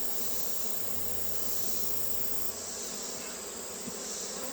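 A dense, steady hum of many honeybees swarming over an opened hive during a mite test as frames are shaken, continuous and close throughout.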